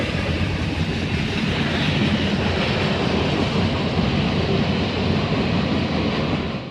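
A long freight train of boxcars, including an 86-foot Norfolk Southern boxcar, rolls steadily past close by, its loud continuous rumble and rattling wheel noise holding constant throughout.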